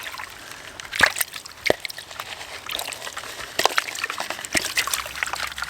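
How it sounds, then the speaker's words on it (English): Gold super concentrates from half a bucket of quartz-vein dirt being washed out in water, with soft sloshing and trickling broken by a few sharper splashes, fairly close and with no talk. "let's wash out our super concentrates"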